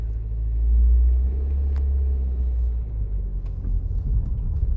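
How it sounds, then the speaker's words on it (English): A mid-1980s four-wheel-drive car with a six-speed extra-low gearbox and a badly rusted underside rolls slowly over a speed bump, giving a loud, steady low engine and road rumble with a swell near the start and a few faint knocks. "I'll take it easy over the speed bump, so by heck is this thing crispy underneath."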